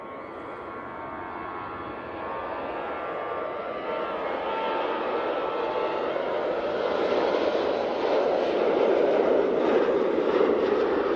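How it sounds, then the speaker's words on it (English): Ryanair Boeing 737-800 jet departing for Rome from Manchester Airport, a steady broadband roar that slowly builds louder over the whole stretch, heard at a distance with no voices. "First out, we have the RyanAir off to Rome,"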